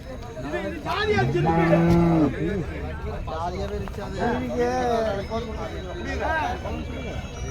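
Cattle low repeatedly nearby at the Seenapuram cattle market, long drawn-out moos rising over a background of people chattering in a busy crowd.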